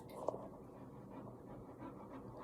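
A service dog pants quietly and steadily nearby in a low, soft, rhythmic breathing pattern, with one brief sharp click early on.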